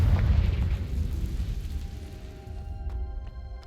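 A magical Confringo blasting spell bursts into a deep rumbling explosion in Hogwarts Legacy, the boom decaying over a few seconds into quiet, faint clicks near the end.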